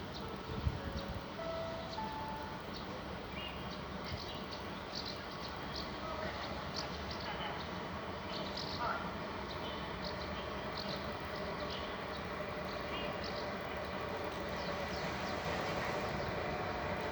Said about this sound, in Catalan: l'últim tren que ve de la Tor.